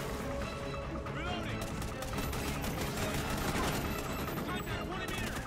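Rapid gunfire in Call of Duty: Ghosts campaign combat, a dense fusillade of shots and bursts running loud and continuous throughout, with game sound effects layered beneath.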